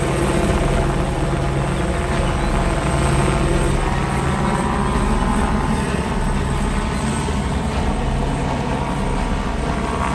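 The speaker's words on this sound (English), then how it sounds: "Got the helicopter." A police helicopter's rotor thrums steadily overhead at night in Los Angeles for the whole stretch, loud and continuous, with a low rumbling wash and no talking.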